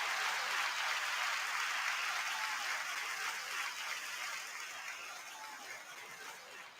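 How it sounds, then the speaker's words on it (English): A live audience at a comedy talk show applauds in a steady, dense wash of clapping that holds strong, then slowly thins and fades toward the end. "They were applauding for that"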